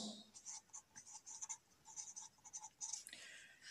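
Pen or marker scratching quickly across a surface while an electron configuration is written out, a run of short strokes in an uneven rhythm, close and fairly faint.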